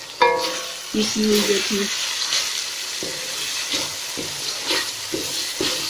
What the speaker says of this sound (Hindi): अब थोड़ी देर 1-2 मिनट इनके साथ भूनूंगी मिर्चों को